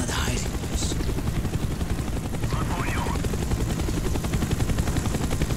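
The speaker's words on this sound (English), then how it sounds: "The chopper is coming around again." Military helicopter circling overhead in a Call of Duty Black Ops campaign level, a loud, fast, steady rotor chop throughout, with faint voices and scattered gunfire-like cracks mixed underneath.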